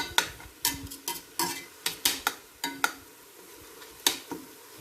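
Spaghetti and lean pork stir-fry in an uncovered pan, with a faint sizzle under a quick, uneven series of close utensil scrapes and taps against the metal.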